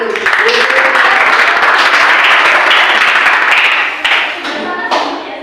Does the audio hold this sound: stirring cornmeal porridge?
no